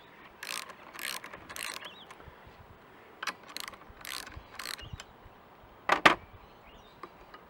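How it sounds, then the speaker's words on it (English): A spring compressor works on CT 110 motorcycle suspension, giving irregular mechanical clicks and ratcheting bursts with quiet pauses between them, fairly close, with no voices. "I'm happy with the spring compressor. It works pretty good."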